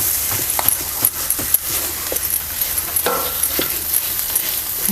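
A spoon stirs a potato mixture with onion-garlic masala, turmeric and cumin in a pan for potato rolls, giving light scraping knocks over a soft sizzle, nearby and without talk.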